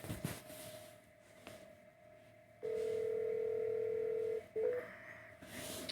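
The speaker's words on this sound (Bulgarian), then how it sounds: "сега звънна на един мой приятел" Telephone dialing tones while calling a friend: a short burst of keypad beeps, then a long steady tone of almost two seconds and a couple of brief follow-up beeps, all clear and close over quiet background hiss.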